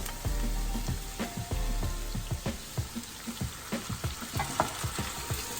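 Chopped tomatoes hit translucent onions and garlic in a pan for a shrimp and zucchini pasta, giving a soft ongoing sizzle broken by a series of sharp spoon taps and scrapes against the pan.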